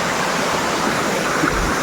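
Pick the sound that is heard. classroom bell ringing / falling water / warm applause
falling water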